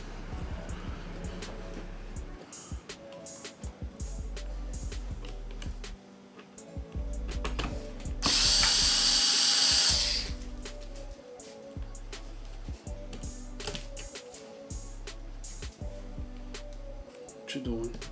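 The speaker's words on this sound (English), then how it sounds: "I'm gonna get the drill." A small power drill whirs in one short burst of about two seconds while a 1/10 scale RC drift car is assembled, loud and close over a humming background.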